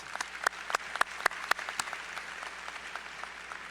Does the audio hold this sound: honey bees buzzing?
no